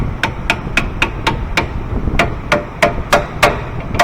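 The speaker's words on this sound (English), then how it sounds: "we're going to hammer this 19 on." Steel hammer blows drive a 19 mm socket onto a tie rod nut on a 2003 Lexus GX 470, about eleven sharp metallic strikes in an uneven rhythm, close and loud, with no talking.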